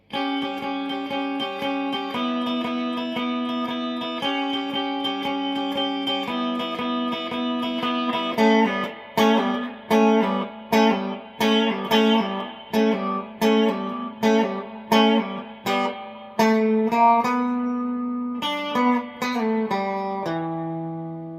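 A slow electric guitar phrase with effects, sustained notes at first, then a run of individually picked notes played deliberately, clear and alone.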